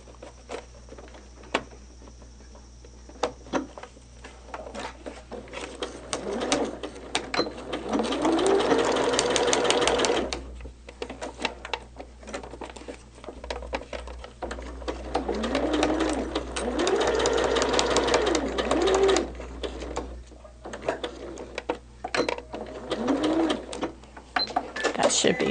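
A sewing machine stitches the final seam of a quilt in close, rapid mechanical bursts that speed up and pause, with a person speaking at times over the whirring.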